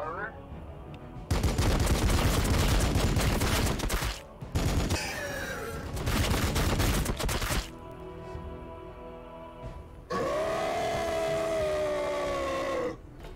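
A Predator tank crew fires in Warhammer 40K: BattleSector, loud sustained bursts of rapid gunfire that stop and restart, followed by a tonal weapon whine, with talking in between.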